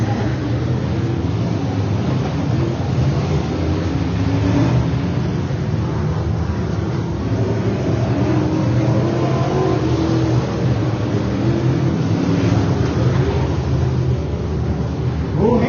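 Race cars at an outlaw figure 8 race roar continuously, a dense, steady mass of engine noise with revving throughout, heard from a distance.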